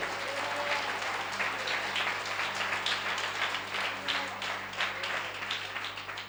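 A church congregation claps loudly and steadily together, a dense continuous wash of applause at a sermon that holds without pause from start to finish.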